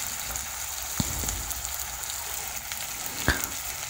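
Small cherry tomatoes salted and cooking down in a frying pan, a steady soft sizzle throughout with a couple of sharp utensil clicks near the start and end.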